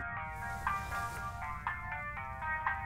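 A phone ringtone sounds late at night, a faint repeating melodic chime with regular pulses, heard alone over a low background hum.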